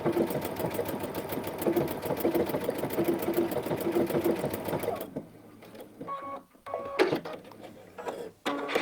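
A Baby Lock Anthem sewing machine stitches in a fast, steady mechanical chatter, then stops and restarts with brief whirring bursts and clicks as the stitch resumes mid-pattern.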